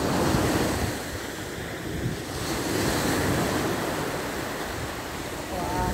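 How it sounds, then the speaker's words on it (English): Ocean waves crashing at a surfers' beach, a continuous loud wash of surf and wind buffeting the microphone, with swells rising and receding. "Look at the waves."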